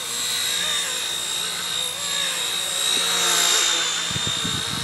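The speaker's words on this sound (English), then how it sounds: "If you really jam on the collective, you can hear it bogging down" An XK K123 AS350 RC helicopter's rotor whines steadily with a high pitched motor tone, dipping slightly as it bogs down under heavy collective, near and continuous.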